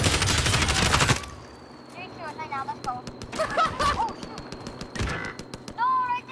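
A dense, loud volley of rapid video-game gunfire opens, then cuts off abruptly. Scattered lighter game effects and voices follow, with another brief burst of shots after.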